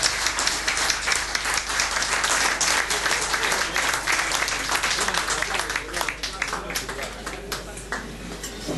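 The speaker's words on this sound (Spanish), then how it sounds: "Primer aplauso para los que vienen por primera vez" Loud, sustained applause from a crowd, dense clapping that holds steady before tapering slightly toward the end.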